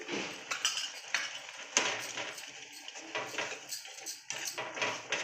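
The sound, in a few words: stirring chili powder and salt into tomato egg curry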